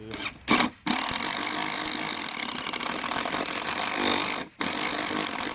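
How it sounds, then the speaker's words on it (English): A power drill whines steadily, boring a drain hole in a 2x4 wooden planter box after a couple of short starts, loud and close, pausing briefly near the end before resuming. "make sure you got one of those bits to drill your drain hole with"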